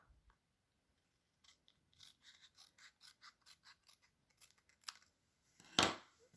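Paper trimmer or scissors cutting Diamond Designer Series patterned paper for a pumpkin card: a quiet run of rhythmic snipping strokes, then a sharper slice and a loud final cut near the end, with no talking.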